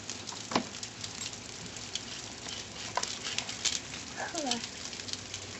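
Rain falls outdoors in a soft, steady patter while a small child plays in it, with a few faint taps and brief voices in the background.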